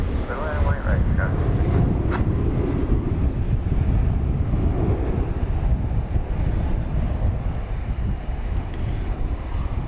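An EVA Air Boeing 787-9 Dreamliner arriving at DFW airport at night, finishing a long flight from Taipei, makes a continuous broad engine roar with wind rumble, loud and steady, while a voice talks over it.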